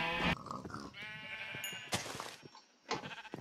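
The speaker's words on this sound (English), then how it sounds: "And then I got my yellow sheep." A yellow sheep in a video game bleats a few times, moderately close and fairly quiet, with brief pauses between calls and no voices.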